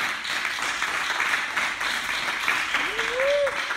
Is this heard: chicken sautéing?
no